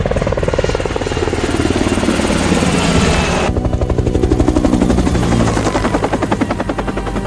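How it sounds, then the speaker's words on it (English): Extraction helicopter in an action film, loud rotor thumping steadily and close, with the blade chop growing sharper and more pulsed midway as it pulls away. "forcing the endangered extraction helicopter to leave"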